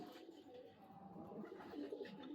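Silver racing pigeons coo softly in a loft, a faint low murmuring that runs throughout with no talking over it.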